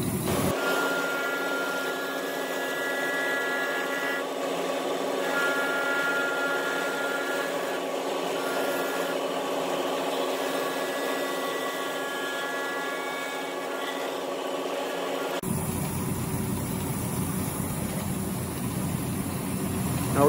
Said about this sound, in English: here we're going to be cutting the groove